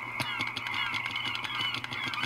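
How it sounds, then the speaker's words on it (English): Birds honk and quack like geese and ducks in a busy, overlapping chorus, steady and moderately close for a couple of seconds with no talk. "And birds."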